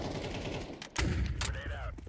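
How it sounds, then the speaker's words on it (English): A flashbang grenade goes off in a Counter-Strike match, with two sharp bursts cutting through the game noise and a thudding low rumble after the first, followed by a brief ringing tone. "Flashbang."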